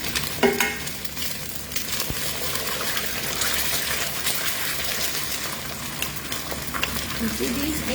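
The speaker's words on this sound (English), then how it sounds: "So when we are stir frying rice, you have to do it like quick." Rice and eggs stir-fried in hot smoking oil in a wok give a steady sizzle with scraping stirs and clatter, close and continuous.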